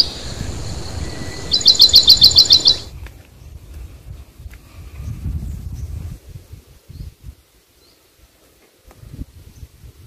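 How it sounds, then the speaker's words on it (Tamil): Birds call in a hillside forest on the trail up to a temple, a rapid run of bright repeated chirps rising over rustling and footsteps, then fainter occasional calls with soft movement in the background. "பாருங்கள், பறவைகள்லாம் வாங்க வாங்கன்னு கூப்பிடுதுங்க."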